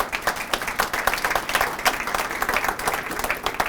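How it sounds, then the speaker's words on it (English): An audience applauds newly promoted candidates at a Mentor Fire Department swearing-in ceremony, a dense, steady patter of many hands clapping together for several seconds. "Round of applause."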